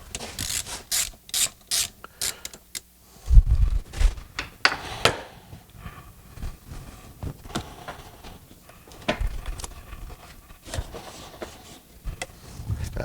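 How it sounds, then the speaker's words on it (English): Air filter clamp being loosened on a 1994 Corvette engine, a close series of short ratcheting clicks and scraping metal bursts repeating irregularly, loud and alone without talk. "Loosen this clamp up right here."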